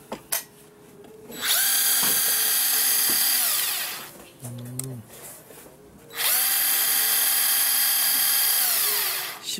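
A DeWalt 10.8V cordless drill driver, part of a combo set, whirs at high speed in two loud, close bursts separated by a pause with handling clicks and a short tone.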